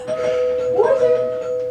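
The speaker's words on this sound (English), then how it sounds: "So apparently the doorbell still works in here too." A doorbell rings inside an abandoned mansion, a sustained two-tone chime heard at moderate distance, with a brief ding-dong flourish partway through over faint room noise.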